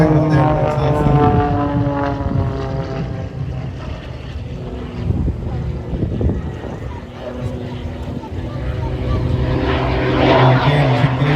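Pitts Special aerobatic biplane climbing steeply into the vertical at an air show, its propeller engine droning loudly and steadily with shifting harmonic tones, a commentator talking over it throughout.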